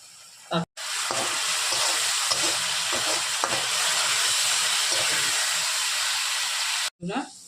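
Green chili and salted dried fish chutney frying in a pan on a gas stove, a loud, steady sizzle with hiss that runs almost without a break, briefly cut off near the start and the end.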